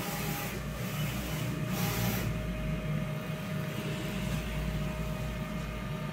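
A DTF printer runs its self test after a head clean, giving a steady mechanical hum with a thin constant whine and a few short sweeping carriage passes early on.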